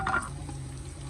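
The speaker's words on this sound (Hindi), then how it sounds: "खड़े मिसालों को मैंने थोड़ी देर के लिए भून लिया" Whole spices, garam masala and dry coriander, briefly fry and sizzle in a pot of onion and ginger-garlic paste for mixed vegetable pulao, a short close crackle with a light stir.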